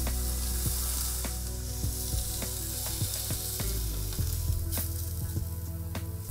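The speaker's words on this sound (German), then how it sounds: "Die Pilze portionenweise je ca. 5 Minuten anbraten" Mushrooms browning in batches in a frying pan with hot butter sizzle steadily and close, with small crackles and occasional clinks of a utensil against the pan.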